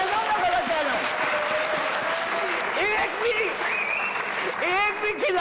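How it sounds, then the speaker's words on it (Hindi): Studio audience applause on a Pakistani sports talk show, a dense steady wash of clapping lasting throughout with voices and crowd noise mixed in underneath. "आपकी तालियां बताएंगी मैं सही कह रहा हूं या गलत कह रहा हूं"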